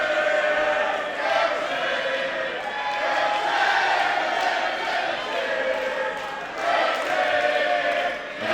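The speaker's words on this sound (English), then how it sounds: "And you hear it there, the crowd supporting Adam Brooks as much as Mitch Waterman." A wrestling crowd at an MCW event backs Adam Brooks in his match against Mitch Waterman, a steady roar of cheering and chanting with surges and dips throughout, heard alone without commentary.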